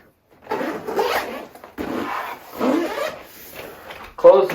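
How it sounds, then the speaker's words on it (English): Three or four long pulls of a camera and drone backpack's zipper, each a raspy drawn-out rip with short pauses between, close to the listener, ending in a brief clatter. "Zipper all this up."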